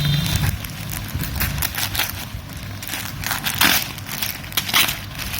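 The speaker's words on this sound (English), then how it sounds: "this is my trusted knife. So let me cut off the same first." A knife slices open the cardboard and wrapping around a Xiaomi Redmi Note 5 box, giving a run of scratchy crunching and crackling bursts up close, moderately quiet and uneven in rhythm.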